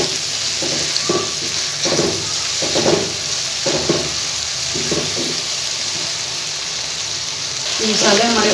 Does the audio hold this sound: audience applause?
no